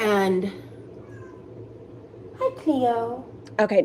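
A pet cat meows at a distance, a couple of short harmonic cries around mid-clip, with someone talking at the beginning and briefly at the end over a low steady hum.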